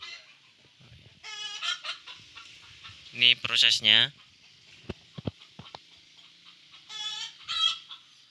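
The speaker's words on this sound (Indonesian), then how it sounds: "Sekalian nanti perkenalan untuk ayam-ayam yang ada di sana" Ornamental chickens cluck and squawk in a backyard coop, several loud bursts with a rising crow-like call midway, while someone talks intermittently between them.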